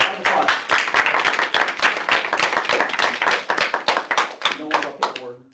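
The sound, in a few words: audience applause at a student senate meeting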